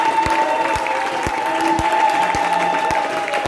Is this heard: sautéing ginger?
no